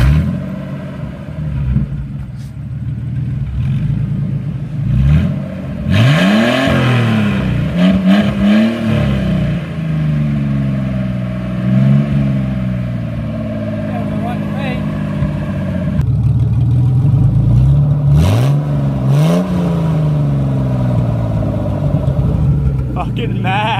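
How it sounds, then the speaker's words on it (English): A car runs with its exhaust removed, the engine revving repeatedly in loud rising and falling sweeps close by, with people talking over the noise. "apparently it's very traditional to run the car without the exhaust on it at all"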